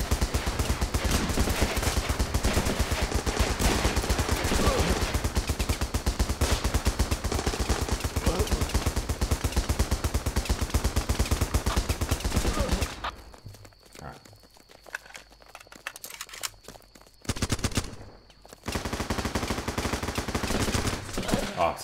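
Running with Rifles battlefield gunfire: dense, continuous automatic rifle and machine gun bursts roar for about thirteen seconds, fall to a near-quiet lull with a brief burst, then the heavy firing resumes.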